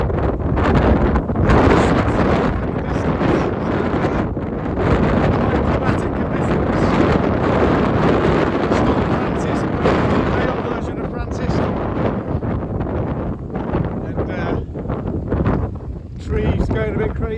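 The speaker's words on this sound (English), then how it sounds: "Got some people just enjoying the wind." Strong gusting wind during Storm Francis on the Isle of Wight coast at high tide, loud microphone-buffeting roar that continues almost without a break, with trees thrashing nearby.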